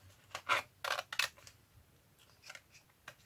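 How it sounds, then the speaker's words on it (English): Scissors cutting out paper, several close, crisp snips in a short irregular series that trail into quieter rustling cuts, heard alone with no talk. "I'm going to cut this one out"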